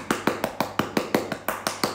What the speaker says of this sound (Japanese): 今年頑張った皆様に拍手を捧げさせていただきたいと思います。